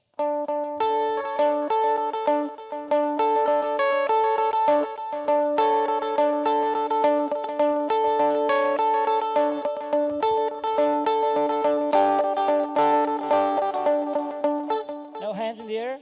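Rock music driven by heavily distorted electric guitar plays loudly and continuously, with dense sustained chords and a steady driving rhythm throughout.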